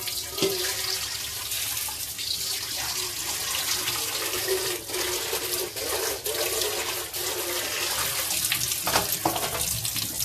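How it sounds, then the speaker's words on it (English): A mixing bowl rinsed under a running kitchen tap, a steady loud gush of water with splashing and sloshing against the bowl throughout, close by with no talking. "Let me just rinse out my bowl here a second."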